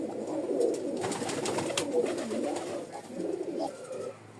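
A pair of pigeons, a male and a female, coo softly and repeatedly up close, their low, throaty rolling calls continuing throughout without any speech.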